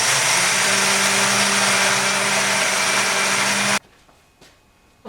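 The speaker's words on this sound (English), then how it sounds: "I'm going to grind this on high speed." A blender grinds soaked rice with water on high speed, a loud steady whirring drone that runs for several seconds, then stops abruptly into near silence.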